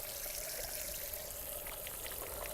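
Fairly warm water trickles and splashes softly while a face is wetted before shaving with a cut throat razor, a quiet, steady watery patter close by.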